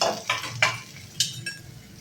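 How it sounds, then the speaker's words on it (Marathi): Chopped onion stirred in hot oil in a pan over a high gas flame, a soft steady sizzle punctuated by a few sharp scrapes and clinks of a spoon against the metal, close and with no talking. "मी आता कांदा भाजून घेणार आहे"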